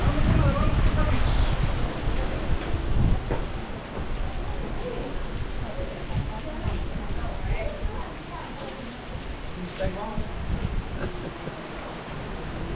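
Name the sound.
heavy rain in the mountains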